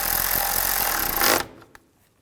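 A power tool whirs steadily while tightening a bolt on a 2013-17 Nissan Sentra radiator cooling fan, then stops abruptly, followed by a single faint click.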